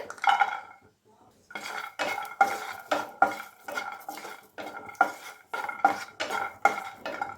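Garlic cloves are dry-sautéed in a pan without oil, with a spatula scraping and clattering against the metal in steady, repeated close strokes and a faint sizzle, after a brief quiet start.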